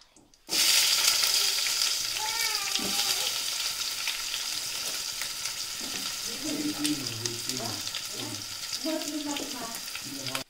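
Dried red chillies, curry leaves and onions fry in oil in a pan, a loud continuous close sizzle that starts abruptly and holds steady, with someone talking over it.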